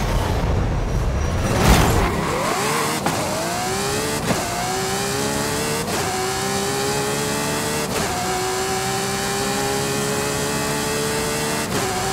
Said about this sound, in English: 1995 Ferrari F50